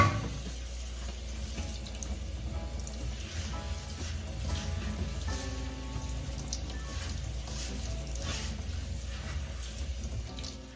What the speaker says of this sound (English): Second option for rinsing your lentils is a mesh strainer.